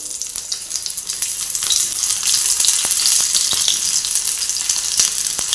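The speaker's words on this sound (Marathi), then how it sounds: "आता आपण भरलेली भेंडी ह्याच्यामध्ये सोडूया," Stuffed okra fries in a pan of hot oil for bhendi masala fry, a steady close sizzle that builds slightly and stays loud, with scattered spitting pops and no talking.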